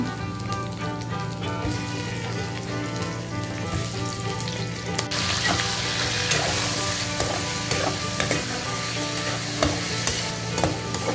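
Chicken pieces go into a hot pan of sautéed onion and ginger for chicken kinamatisan, producing a loud, continuous sizzle that swells halfway through, with scattered spatters and stirring clatter.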